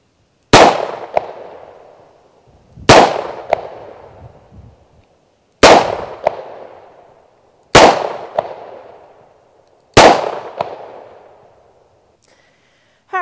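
Five loud, sharp revolver shots from a Taurus 85 fired at about 5 yards, spaced roughly two seconds apart, each with a crisp crack and a decaying ring, with no voices between them.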